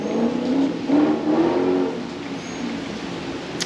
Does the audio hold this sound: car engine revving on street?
yes